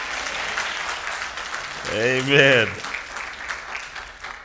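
Sustained applause from a church congregation continues while a voice rises over it in a short sung or called-out exclamation midway through.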